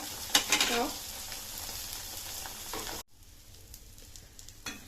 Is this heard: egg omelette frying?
yes